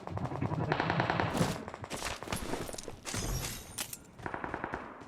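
Rapid bursts of AK rifle fire in a shooting video game, sharp cracking volleys in several clusters, close and loud, with faint voices underneath.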